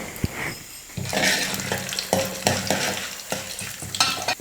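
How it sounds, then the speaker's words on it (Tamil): Urad dal, chana dal and mustard seeds sizzle in hot oil in a pan, with repeated scraping stir strokes of a spoon through the crackling fry. No one speaks. "பருப்பெல்லாம் நல்லா பொரிஞ்சிடுச்சு."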